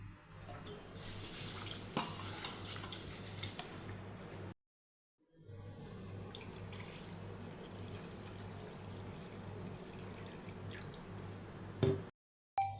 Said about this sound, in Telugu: వీటన్నింటిని ఒకసారి శుభ్రంగా వాష్ చేసుకుందాం.